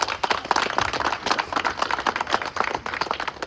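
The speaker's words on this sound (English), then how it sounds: "Let's give him a big round of applause." A crowd at the Thousand Man March in Jackson, Mississippi applauds a speaker coming up, dense steady clapping with a few louder bursts, close and continuous throughout.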